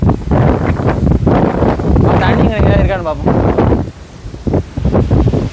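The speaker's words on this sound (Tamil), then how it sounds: "காற்று தான் வருதுப்பா" Strong wind buffets the microphone outdoors, a loud continuous roar and rumble that runs under people talking throughout.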